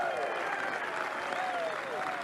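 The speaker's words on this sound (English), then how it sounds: "Sounds though he's got a few Canadians cheering him on" Golf spectators at the PGA Championship clapping and cheering after an eagle putt, a brief steady burst of applause heard from a distance with voices mixed in.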